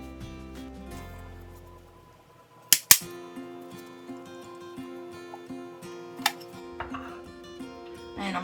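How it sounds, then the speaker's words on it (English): Risen challah dough tumbles out of a metal pan onto a floured kitchen counter, giving two sharp knocks close together, followed by softer taps and light handling noises over a quiet background hum. "we're fixing to dump it out on some flour I've got"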